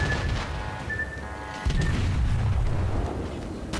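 Torpedo explosions near a ship in World of Warships, with a tier 8 Japanese premium cruiser Kitakami, dull rumbling booms under a steady droning engine and sea wash, a heavier thud midway, moderately loud with no talk.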